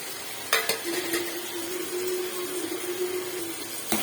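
Tomatoes cooking down with chilli powder, turmeric, coriander powder and garam masala in a pan, a steady soft sizzle with a couple of stirring scrapes at the start and end, close and fairly quiet.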